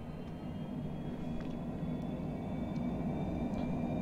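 Twin jet engines of a Cessna Citation Longitude in a flight simulator drone steadily and faintly as the throttles advance for takeoff, a low continuous hum with a thin whine above it.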